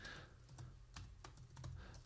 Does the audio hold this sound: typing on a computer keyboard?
yes